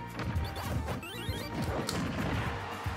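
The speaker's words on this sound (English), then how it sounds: "Getting hit with side smashes?" Side smash attacks landing in Super Smash Bros. Wii U, a run of loud crashing hits and thwacks amid busy game noise, dense and close with no talk.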